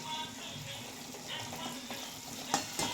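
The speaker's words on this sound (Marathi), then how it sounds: "आता चांगलं परतून घेते टमाटर चांगलं बारीक होईपर्यंत" Finely chopped tomatoes sauté in a pan with a steady, close sizzle, joined by a soft stirring scrape and a couple of brief clinks near the end.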